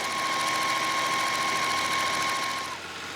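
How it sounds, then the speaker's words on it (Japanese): A home sewing machine stitching a straight seam on room pants, a fast steady whirring drone with a constant hum, close and alone before winding down at the end. "はい、ではあとはまっすぐ縫っていきましょう。"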